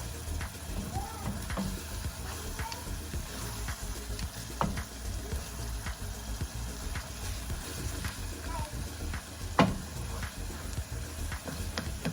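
Ground meat for lasagna sizzling and frying in a pan, a faint steady crackle with occasional scrapes and clicks from stirring, and quiet talk faintly audible underneath.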